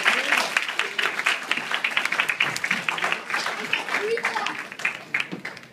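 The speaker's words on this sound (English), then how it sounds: "Big round of applause." An audience at a guest night event breaks into a round of applause that swells and flickers throughout, with voices talking over the clapping.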